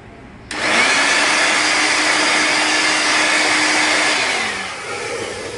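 A steady, loud hiss from an air blower dusting a glass fiber optic connector starts abruptly and runs continuously for several seconds, then drops slightly in strength near the end.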